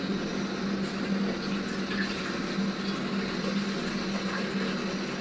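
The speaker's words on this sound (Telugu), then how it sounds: "ఇప్పుడు వాటర్ అనేది యాడ్ చేసుకున్నాం" Water pours steadily into a steaming vessel such as an idli pot set up for cooking junnu, a continuous soft gushing flow heard fairly faintly and alone.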